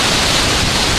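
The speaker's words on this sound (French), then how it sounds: "je suis sous la chute d'eau" Waterfall at Plitvice in Croatia pounding down from very close, a dense, loud, unbroken roar of splashing water with no voices.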